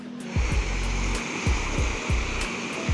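Sea waves roll onto a beach in steady surf, the wash continuous and fairly loud, with several heavier low thuds of breaking water about every half second to second.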